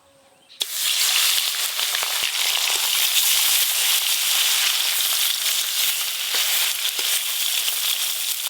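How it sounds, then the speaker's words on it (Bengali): A sudden loud burst of sizzling as salt-and-turmeric-coated fish hit hot oil, then a dense, continuous crackling fry that holds steady to the end. "ওই একই তেলে নুন হলুদ মাখানো মাছগুলো ভালো করে ভেজে নেব।"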